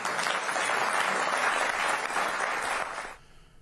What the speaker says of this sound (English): Well, she did get a big round of applause,